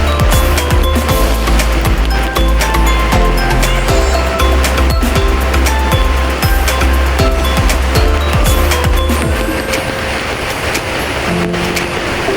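Rainwater floods across a road in a heavy downpour, a loud, steady rush of water that fills the whole stretch, with passing vehicle noise mixed in and no voices.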